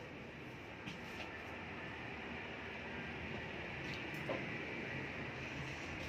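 Train travelling on a journey from Bhubaneswar, a nearly empty carriage filled with a steady, continuous rolling rumble and hiss that stays even throughout, with no voices.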